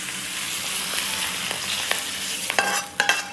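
Chicken feet stir-fried in a wok with salt and sugar, giving a steady sizzle with scraping stirs and a few sharp clinks of the spatula near the end, close and fairly loud with no talk.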